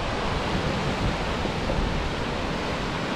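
Steady broadband rushing of water from a North Shore waterfall heard close by, continuous and fairly loud with no voices.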